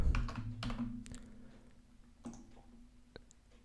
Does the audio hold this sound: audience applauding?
no